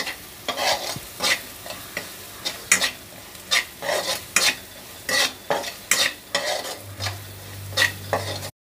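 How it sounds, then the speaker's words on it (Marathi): Masala spices roasting in hot oil for a sandgyachi bhaji, with repeated scraping stirs against the pan over a steady sizzle; close and fairly loud, with no talk. "आता मसाला आपण तेलात भाजून घेऊ"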